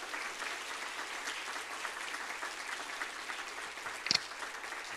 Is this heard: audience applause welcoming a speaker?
yes